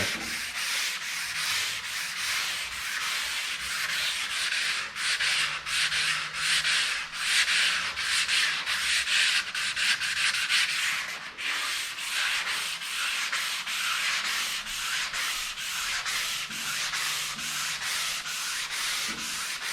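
Dry sanding of a car body with 320 grit paper on a block, a steady close rasping scrape with rhythmic back-and-forth strokes running continuously and alone.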